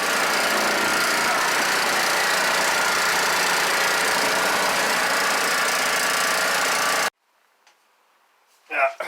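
A Honda engine on a mini bike runs loud and steady with a rough, uneven idle, then cuts out abruptly into near silence before a brief burst of noise at the end.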